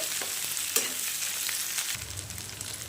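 Pieces of tender eggplant stirred in hot oil in a pan, a steady close sizzle with scraping stirs, the frying rising into a louder, fuller crackle near the end.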